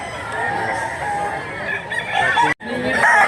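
Chickens, white hens and roosters, at a busy poultry market fill the air with loud, continuous clucking and crowing, dense and close, with a brief dropout near the end.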